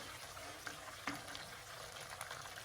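Rice being parboiled in a pot of water for chicken biryani, a steady soft bubbling and hiss of boiling water with a couple of faint clinks, close and continuous, no voices.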